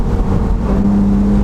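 A BMW Z4 Roadster engine pulling hard in second gear toward about 7,000 RPM, a loud close droning tone that climbs slightly in pitch across the short stretch.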